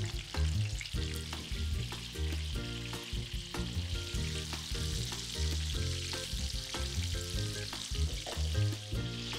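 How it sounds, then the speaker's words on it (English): Cardoon parcels sautéing in olive oil in a Sicilian home kitchen, giving a steady close sizzle and crackle of frying that runs throughout beneath prominent music. "sautés the cardoon parcels in some of her family's olive oil"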